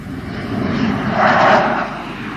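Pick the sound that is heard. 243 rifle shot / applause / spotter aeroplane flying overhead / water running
spotter aeroplane flying overhead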